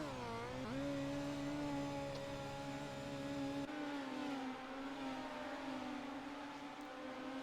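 Midget race cars lifting off the throttle on entry to a turn on a dirt oval at Limaland, a loud sustained engine drone whose pitch dips and then steadies, with a second engine note blending in partway through.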